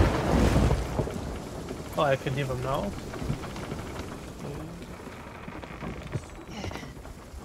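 Steady rain and wind wash over the deck of a pirate ship during a thunderstorm in Sea of Thieves, with a low rumble at the start and a person talking briefly over the downpour.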